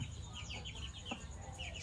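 Soft, high peeping chirps from chicks repeat in quick succession over a low background hum, fairly close and fairly quiet.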